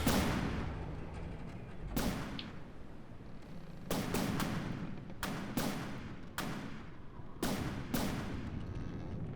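Heavy naval guns fire again and again in the From the Depths ship-combat game, aimed at a Minecraft-style Lusitania liner. About six loud booming shots land at uneven intervals, each with a long rumbling tail, over a constant low roar.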